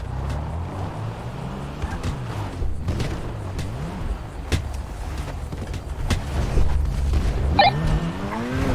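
A car in GTA V pulls away right after being repaired, its engine revving and tires squealing over a steady low rumble, with a sharp skid near the end.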